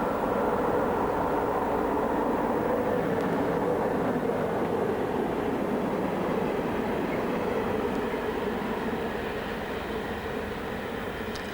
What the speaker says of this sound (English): On the West London line, a Class 92 from Wembley heads for Dollans Moor for onward connection to Lille.